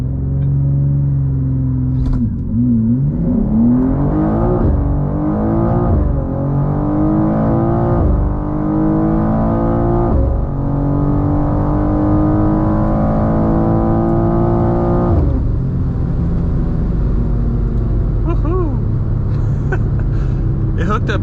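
A BMW M2 CS on a drag run accelerates hard, its engine climbing steadily through loud rising pulls with brief shift breaks, heard close from inside the car.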